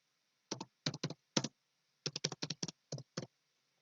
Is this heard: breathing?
no